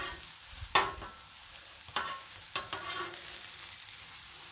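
Mushrooms and vegetables sizzle on a Blackstone griddle as a soft, steady crackle, broken by three or four louder scraping strokes of a spatula.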